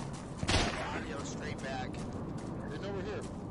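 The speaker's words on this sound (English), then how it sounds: "There's your shots fired" Gunfire in a competitive video game match: one loud, sharp burst of shots early on, then a dense, steady wash of game noise with faint voices talking underneath.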